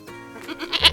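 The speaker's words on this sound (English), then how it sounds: "G is for goat." A goat bleats once, a short, loud and close wavering cry that rises and strengthens toward its end, heard alone without talk.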